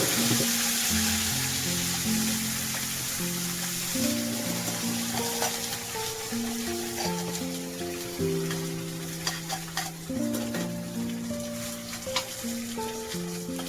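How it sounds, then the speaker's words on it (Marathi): Whole spices such as cardamom, cinnamon and bay leaf fry with ground masala in hot oil, a steady close sizzle with occasional stirring scrapes, while sustained tonal notes from background music or a nearby hum run throughout. "म्हणजे चांगलं तेल सुटूपर्यंत ना आपण मसाले चांगले परतून घेणार आहे"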